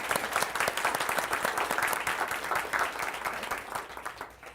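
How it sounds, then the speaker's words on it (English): An audience at a Latino identity event claps together in a full, continuous round of applause that holds steady, then gradually thins and fades toward the end. "So let's give it an applause."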